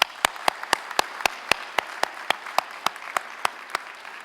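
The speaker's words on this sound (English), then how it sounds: "Please join me in thanking all of our student leaders with a warm round of applause." Slow, evenly spaced single claps, about sixteen sharp hits in a steady rhythm, fairly faint against a quiet room at a college commencement ceremony.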